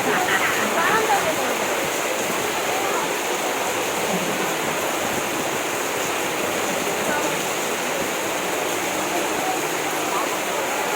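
Heavy rain falling in a steady, dense roar that holds evenly throughout, loud and close with no breaks.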